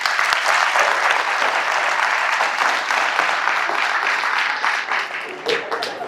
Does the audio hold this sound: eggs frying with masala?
no